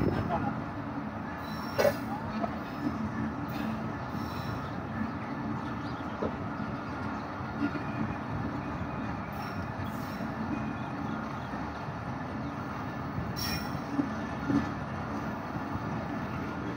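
Khyber Mail passenger train rolling on tracks between Lahore and Multan, heard from inside as a steady, continuous rumble and rattle with occasional sharper clacks, moderately loud and unbroken throughout.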